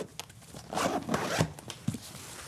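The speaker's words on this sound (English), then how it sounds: "there's another zipper right here" A zipper on a camera bag compartment is pulled open in one quick, close rasping run, then a few short catches and tugs in a quiet setting.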